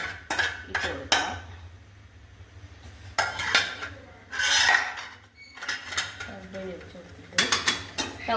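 A spoon stirs sago pearls through a pot while making kadala payasam, giving intermittent clinks and scrapes of metal against the pan in short bursts with pauses, close and moderately loud.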